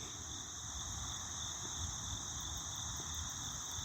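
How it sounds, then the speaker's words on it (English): Steady crickets chirping in a continuous high trill in the morning, with a low rumble of outdoor background noise underneath and no talking. "And crickets and still chirping."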